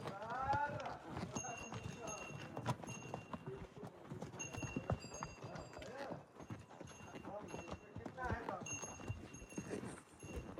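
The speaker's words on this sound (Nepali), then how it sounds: "हाम्रो घोडाहरू चाहिँ पानी खाँदैछन् यहाँ अब" Horse hooves clip-clop irregularly on hard ground on the way to Rara, Nepal, while people talk nearby, with occasional high animal calls.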